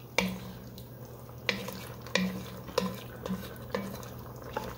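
A spoon stirring stuffed pepper soup and scraping the bottom of the pot, a series of sharp metallic scrapes and knocks spaced irregularly, close and fairly clear over a low kitchen hum.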